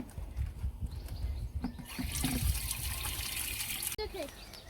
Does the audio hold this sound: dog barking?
no